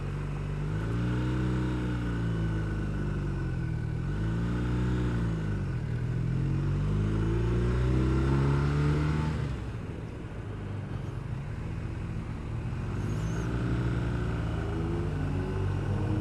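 Several cars descend a mountain road in Romania, their engines a steady low rumble with rising and falling passes, close and fairly loud throughout with a slight dip partway.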